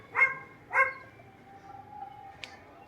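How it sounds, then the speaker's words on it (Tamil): A neighbour's dog nearby gives two short, sharp barks in quick succession, followed by quieter background sound and a faint distant tone, with no talking. "பக்கத்தில் இருக்க நாய் கூப்பிடும் அவங்க என்றைக்குமே அவங்க குரல் இல்லாமல் இருக்காது"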